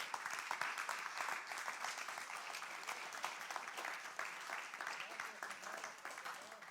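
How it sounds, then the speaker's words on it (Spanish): A church congregation claps continuously in a dense, steady wash of applause, fairly even in loudness throughout, with some voices faintly underneath. "Dele palmas al Señor."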